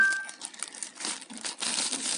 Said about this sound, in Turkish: Bu şekilde bir poşet var.